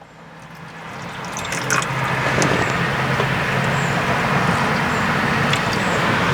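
Water is poured into the rusty console of a very high-mileage GMC Envoy, a continuous splashing fill that grows louder after a quiet start and keeps running steadily, with no one speaking.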